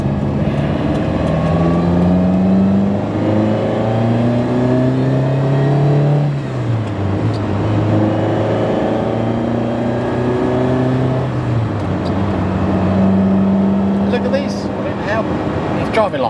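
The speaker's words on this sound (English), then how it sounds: "Driving like a new car." A 1977 Ferrari 308 GTB drives along, its engine note rising and falling through gear changes in a steady, fairly loud hum under continuous interior road noise, with someone talking over it.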